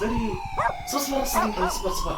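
Dogs bark and yip in short bursts in the Squid Game video game, with a siren tone running beneath and someone talking over them.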